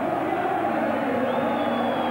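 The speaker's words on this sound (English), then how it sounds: "The singing is starting" A large, happy football crowd sings at Belmore stadium during a 1999/00 NSL elimination final between Sydney Olympic and Adelaide City, a dense, continuous wall of voices that stays steady and loud throughout.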